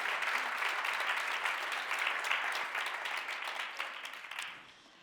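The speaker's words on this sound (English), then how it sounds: "I suggest we give a round of applause to all." A conference audience applauds the startup pitches with dense, continuous clapping that holds steady for several seconds before tapering off and fading away.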